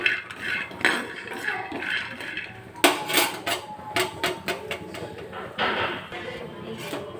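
Peanuts being roasted and stirred in a pan for chutney, irregular clinks and scrapes of metal on metal, with a cluster of sharper knocks midway, fairly faint and close.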